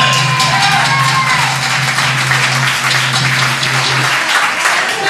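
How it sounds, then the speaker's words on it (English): Loud audience applause at an anniversary event, a dense wash of clapping sustained for several seconds over a humming tone, with a speaker's voice faintly beneath. "let's give a round of applause to Miss Yuki."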